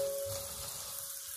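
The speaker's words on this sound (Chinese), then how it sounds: "接下来锅中留底油，把姜蒜末小米辣全部放入锅中，开大火快速的翻炒一下" Ginger, garlic and small chili bits stir-fried in a little oil over high heat for chicken wings, giving a steady close sizzle with a faint hissing crackle and no talk.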